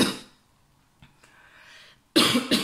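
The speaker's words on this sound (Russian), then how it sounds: "я немножко приболела, поэтому кашлю" Coughing from a woman who is slightly ill: a short burst of coughs at the start, then a quiet stretch, then another loud, close cough near the end.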